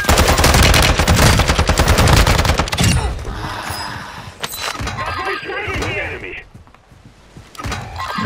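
Rapid automatic gunfire in the video game Warzone 2, loud, dense bursts up close for the first few seconds, then scattered shots and game effects while players talk over it.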